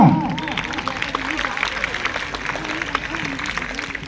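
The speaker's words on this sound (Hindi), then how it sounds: "जोरदार तालियां तो होनी चाहिए ना" Applause from an audience at a women's honour ceremony political rally, steady clapping and crowd noise continuing throughout with a voice speaking over it.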